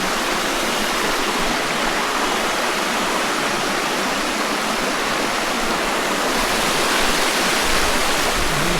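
Steady rushing water of a fairly deep stream, a continuous dense wash that stays at an even, close loudness for the whole stretch with no voices.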